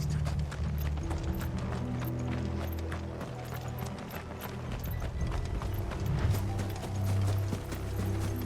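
Several horses trot in Final Fantasy XVI, steady rhythmic hoofbeats clopping close and loud under game music and mechanical rumble.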